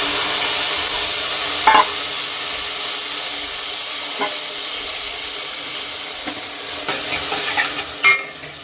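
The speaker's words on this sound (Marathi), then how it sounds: "याच्यामध्ये कॉर्न टाकते डिरेक्टली" Boiled frozen sweet corn fries in melted butter in a pan, giving a steady, loud sizzling hiss with occasional soft stirring scrapes and no voices.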